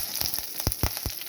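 Curry leaves dropped into hot oil for Tamil sour mango rice, a close, crackling sizzle with quick popping spatters.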